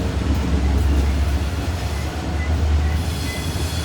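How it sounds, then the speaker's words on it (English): Pusher locomotives on the rear of a coal train easing downhill on Horseshoe Curve, Pennsylvania, give a steady, loud, deep diesel rumble with rolling wheel noise close by. "There'll be 2 more locomotives on the rear of this train"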